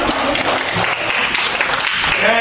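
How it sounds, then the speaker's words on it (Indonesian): A classroom of students claps briefly together, a dense burst of applause with a voice faintly underneath. "Bagus, tepuk tangan."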